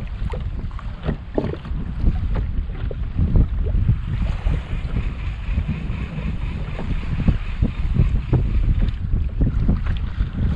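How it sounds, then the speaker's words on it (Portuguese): Strong wind buffets the microphone in a steady, heavy roar with low rumbling gusts, water sloshing faintly beneath, on a kayak at sea. "Tá ventando muito."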